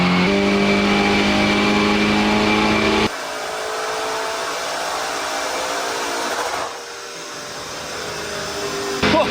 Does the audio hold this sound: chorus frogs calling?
no